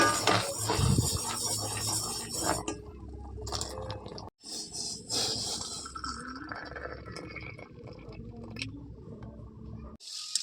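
Coffee boiling in a pot on a home stove, giving a steady bubbling patter with a few light clinks; loud at first, then quieter after a brief break.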